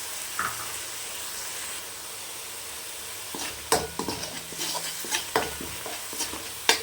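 Ground onion paste fries for a mutton gravy until reddish, a steady sizzle with clustered spatula scrapes and knocks against the pan in the latter half.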